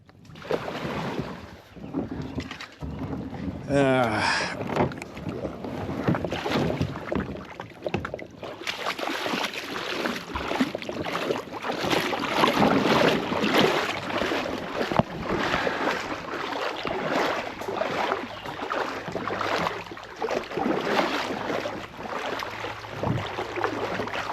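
A kayak running river rapids on the Middle Fork: rushing, splashing water and paddle strokes close by, loud and continuous with wind buffeting and a brief tonal squeak early on.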